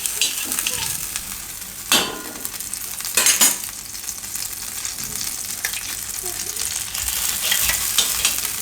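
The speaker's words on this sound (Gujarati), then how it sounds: "આ લોઢી એમાં આપણે નાખીશું થોડુંક અમથું માખણ" Butter sizzles and fries on a hot iron griddle while pav buns are toasted for pav bhaji, a steady close crackle broken by a few sharp scraping and clinking utensil hits.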